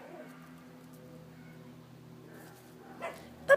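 Pomeranian puppies give soft, faint yips and whimpers that build to a sharper, louder bark right at the end, with no voices present.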